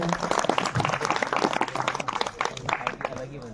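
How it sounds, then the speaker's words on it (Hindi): Audience at a farewell ceremony breaks into loud, dense clapping, close and busy, with voices mixed in under the applause. "एक बार जोरदार तालियां हो जाए।"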